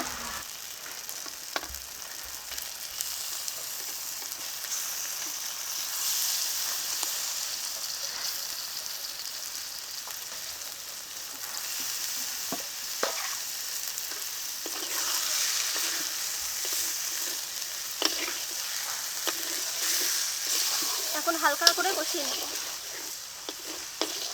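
Rohu fish pieces with yogurt frying in a spiced masala for kalia, a steady soft sizzle with occasional stirring clatter and a brief burst of crackling near the end, while a voice speaks now and then.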